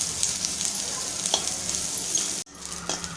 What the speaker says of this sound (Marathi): आल्याचे तुकडे टाकून घेऊया, परतून घेऊया।